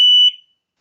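A single sharp electronic beep from a Tuya Smart SR5 alarm system arming, high-pitched and steady, lasting about a quarter second before cutting off into silence.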